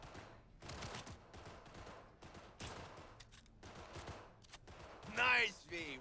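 Pistol shots ring out in a Cyberpunk 2077 shooting competition in Watson, a series of separate, moderately loud cracks spaced about a second apart, mixed with background game ambience and a brief voice near the end.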